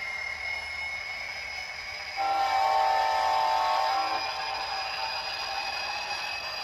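A model coal turbine locomotive's PA unit starts up with its sound system coming on: a steady mechanical hum, then a swelling whine and turbine tone building over it for a couple of seconds before settling.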